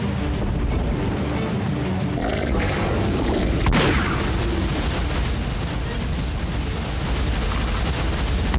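Heavy booming shotgun blasts aimed at a dragon in the video game The Last Dead End, one sharp broadband crack near the middle standing out from a dense, continuous roar of game noise.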